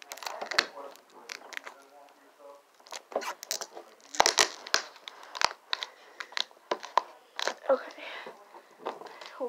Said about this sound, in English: I'm gonna peel off this tape